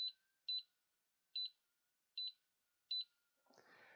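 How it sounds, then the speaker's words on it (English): A piezo beeper wired to a Raspberry Pi GPIO button input gives five short, crisp electronic beeps at an uneven spacing, faint and alone in a quiet room, followed by a soft rustle. "Now let's see if we get a beep."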